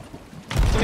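A single loud gunshot blast in the pirate game Sea of Thieves, erupting abruptly halfway through and ringing out broadly to the end.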